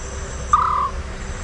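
A single scops owl call from a played recording, one short clear tonal hoot standing out faintly over low background hiss and night ambience, with no talking.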